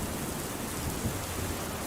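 Heavy rain pours in a steady, dense roar with low rumbles of thunder underneath, constant and close throughout.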